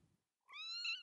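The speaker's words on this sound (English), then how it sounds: "Oh, cat." A cat lets out a single clear, drawn-out meow close to the microphone, alone after a brief soft sound.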